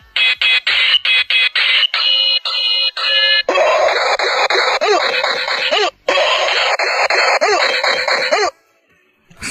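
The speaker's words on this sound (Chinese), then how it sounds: "让大家享受一下从第一时间听到这个盗版的音效" A cheap bootleg Ultraman Trigger arm toy plays its sound effect through a speaker: loud, choppy bursts of squeaky electronic chirps, beeps and warbling tones in quick succession, breaking off before a short quiet at the end.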